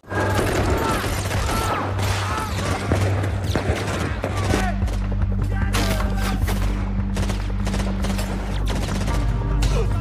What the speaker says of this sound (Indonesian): Pada baku tembak itu menyebabkan Paul harus tewas di sana